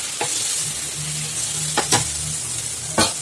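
Dosa batter hitting a hot pan for breakfast, a steady close sizzle with a few sharp scraping clicks, no talking.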